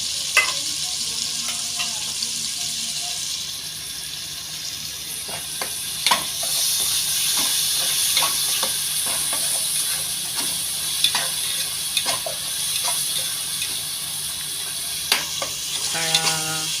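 Cabbage and tuna sauté in a pan, a steady close hissing sizzle with intermittent sharp stirring clicks and scrapes throughout, and a brief clatter near the end.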